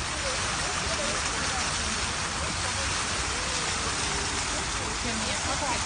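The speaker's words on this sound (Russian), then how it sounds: "Пошел такой дождь" Heavy rain falls in a city street, a constant loud wash of broadband hiss that fills the whole stretch without pause.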